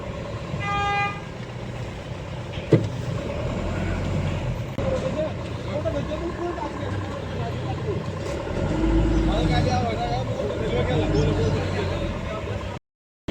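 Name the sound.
traffic jam with cars in Almora to Pithoragarh road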